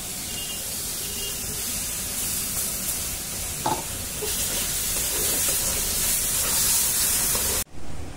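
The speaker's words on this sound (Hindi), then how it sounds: "थोड़ा बहुत थोड़ा सा फ्राई करती हूँ ना, जल जाता है नीचे" Vegetables fry in a kadhai with a steady loud sizzle and hiss, stirred now and then, cut off abruptly just before the end.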